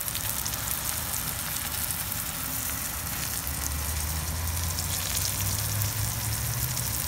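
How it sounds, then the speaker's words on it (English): A steak shallow frying in a pan of oil gives a steady, close sizzle with crackling spatter, unbroken throughout, and a low hum from the stove underneath. "I put a decent amount of oil in the pan, but not too much. So it's almost like a shallow fry for the crust."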